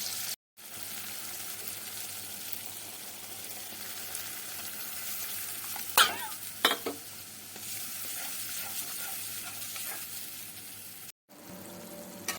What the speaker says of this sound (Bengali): এবার এটা আস্তে আস্তে ভাজতে থাকবে।